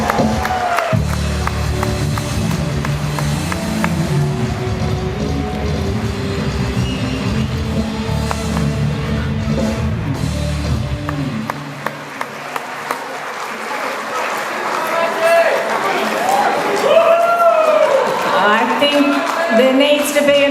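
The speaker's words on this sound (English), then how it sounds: "There needs to be another round of applause for those 35-year award participants." An audience applauds at a 40th anniversary celebration as 35-year badge holders stand, steady, dense clapping filling the room before thinning into scattered claps and murmuring crowd noise.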